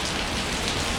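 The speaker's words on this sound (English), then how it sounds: "We're out here in the pouring rain." Heavy rain pours down near a waterfall in the Liechtenstein Gorge, a dense, loud and constant hiss of drops on surfaces with nothing else heard.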